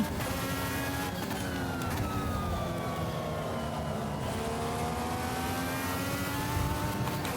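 Race car in Automobilista 2 at Watkins Glen, engine screaming at high revs with pitch sweeps through gear shifts and braking, loud, close and unbroken, no voices.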